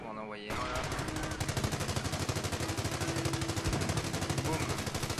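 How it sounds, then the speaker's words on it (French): Gunfire and a mortar in the Company of Heroes video game, a sharp opening report followed by rapid, continuous bursts of machine-gun-like fire, loud and dense, with a voice talking underneath. "Juste le mortier qui tire."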